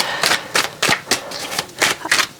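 Tarot cards shuffled by hand, close and fairly loud, in a run of about seven quick papery riffling bursts separated by short pauses, with no talking.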